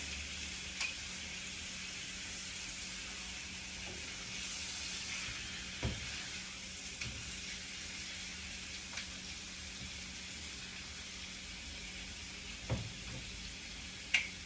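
Pork chops browning in a pan for apple cinnamon pork chops give off a steady, even sizzle with broadband hiss throughout, broken by a few brief clinks and taps.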